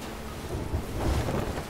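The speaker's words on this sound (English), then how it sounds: "Back in the fucking storm again." A storm in a sailing video game brings a low, rolling rumble of thunder. It swells over a steady wash of rain and wind noise, with no voices.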